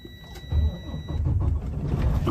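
A 2016 Freightliner Cascadia 125 truck engine starts up in the cold, breaking into a loud, close, low rumble after a short quiet moment and then running on steadily.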